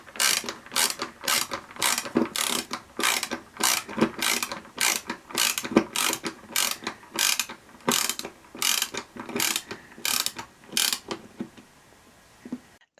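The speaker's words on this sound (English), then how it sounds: "That's what a ratchet screwdriver sounds like" A ratchet screwdriver clicks in quick, even bursts, about two per second, close and clear with no talking, before the clicking stops near the end.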